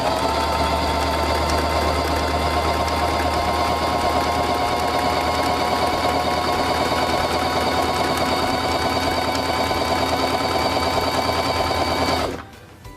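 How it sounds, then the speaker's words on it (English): A sewing machine stitches a buttonhole with a steady, fast mechanical whirr that holds even and loud for about twelve seconds, then stops abruptly. "lower the buttonhole foot, and press the foot control to begin sewing"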